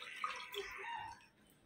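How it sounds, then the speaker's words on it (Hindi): Two cups of water are poured into fried masala in a pot, a close, steady rush and splash lasting just over a second before fading. "पानी डालेंगे,"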